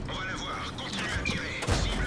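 A tank's main gun fires once near the end in World of Tanks, a sharp heavy blast over steady battle noise, with someone talking throughout.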